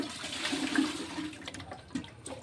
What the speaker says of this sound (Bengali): মাছটা ধুয়ে পরিষ্কার করা হচ্ছে।